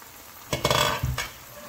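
A tomato and prawn curry is stirred in a pan. One short burst of scraping and sloshing stands out over a quiet simmering background.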